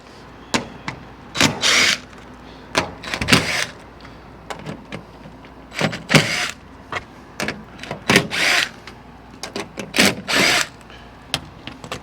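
Power drill backing screws out of an HVAC unit's belt access panel, with repeated short whirring bursts of varying length in an irregular rhythm, loud and close, with no talking.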